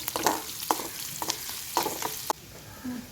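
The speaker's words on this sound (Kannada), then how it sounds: "ಎಲ್ಲ ಒಟ್ಟಿಗೆ ಹಾಕಿ ನಾನು ಈಗ ಫ್ರೈ ಮಾಡ್ತಾ ಇದ್ದೇನೆ" Silver fish masala ingredients fry in a pan, a steady soft sizzle broken by several sharp scraping stirs of a spoon, close up, with no voices.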